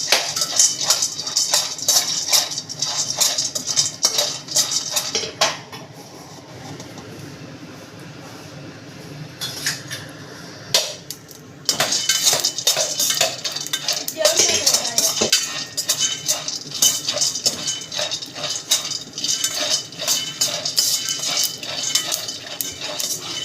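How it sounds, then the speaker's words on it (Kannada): Peanuts roasting in a pot with a hole in it, stirred steadily, producing rapid rattling and scraping of nuts against metal, close and continuous, with a quieter pause midway. "ಈಗ ಕಡಲೆ ಬೀಜ ಹುರಿತೀನಿ."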